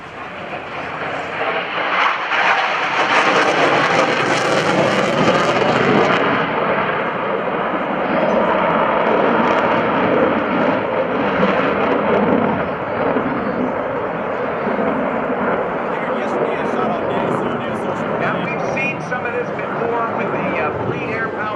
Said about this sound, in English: high-performance turns, demonstrating the Super Hornet's agility